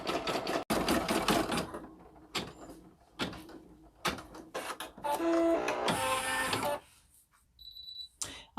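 A Brother PE770 embroidery machine stitches out a patch, its needle hammering in rapid mechanical bursts with pauses and whirring hoop movements, loud and close with no talk.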